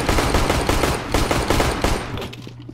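Rapid gunfire in CS:GO ending in a wallbang headshot, dense loud bursts of shots repeating through the clip before tapering off, no talk over it.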